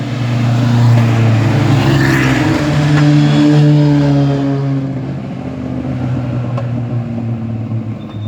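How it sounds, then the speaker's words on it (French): Racing cars revving at a car race, a loud, steady engine drone that swells and eases over several seconds, with no voices. "il y a une course de voiture."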